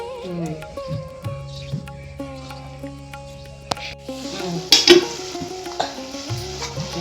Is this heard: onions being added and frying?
yes